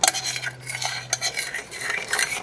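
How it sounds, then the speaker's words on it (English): Strawberry freezer jam mixture with SURE Jel being stirred in a bowl, a repeated scraping and clinking of a utensil against the dish in an uneven rhythm, close and alone without talk. "Once we put the SURE Jel mixture in, we're going to want to stir it for 3 minutes"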